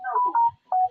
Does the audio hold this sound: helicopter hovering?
no